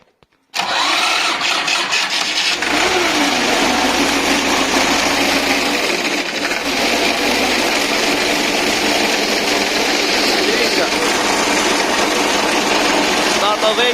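A mini tractor, converted from power steering to a hydraulic metering pump, starts up abruptly and then idles loudly and steadily close by for the rest of the clip.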